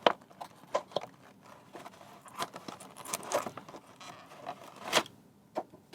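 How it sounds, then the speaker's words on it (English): Plastic packaging of a Greenlight die-cast toy trailer jack being torn open, making irregular crinkling and crackling bursts with sharp clicks, close and steady throughout. "We gotta get that out of the packaging so I don't lose it."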